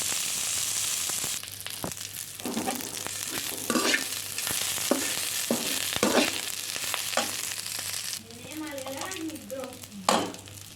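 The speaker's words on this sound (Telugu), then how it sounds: "పచ్చి వాసన పోయేంత వరకు వేగించుకోవాలి." Curry leaves and green chillies fry in a pan for curry leaf rice, a continuous close sizzle broken by repeated stirring scrapes and light clinks, with a brief voice near the end.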